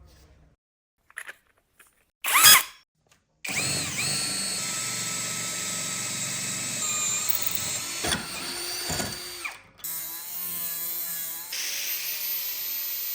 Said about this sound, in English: Now using a 40mm diameter bit, we'll drill a hole in the center.